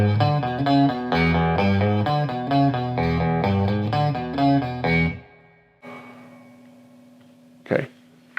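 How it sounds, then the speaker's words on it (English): Telecaster electric guitar on its neck pickup, picked close to the bridge, ringing out a steady run of rhythmic chords for about five seconds, then a lone sustained note decaying with a faint scrape near the end. "instead of using the bridge pickup, let's use the neck pickup. And let's play real close to the bridge"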